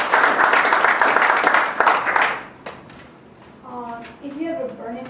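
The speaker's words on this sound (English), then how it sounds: "let's give a round of applause to Jonathan for coming" A library audience claps for a guest speaker, a busy burst of applause for about two and a half seconds that fades, then a voice speaks alone.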